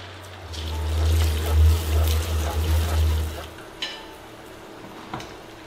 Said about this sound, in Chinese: 倒入开水